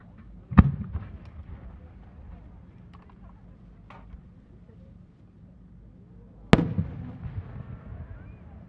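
Fireworks shells burst at the Omagari fireworks festival in Japan, two sharp loud booms several seconds apart, each trailing into crackling and rumbling echoes against a quiet night background.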